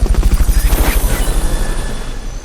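A Fulton recovery helicopter in the video game Metal Gear Solid Peace Walker thumps with loud, rapid, evenly pulsing rotor beats that fade slightly as it continues, alone with no talk.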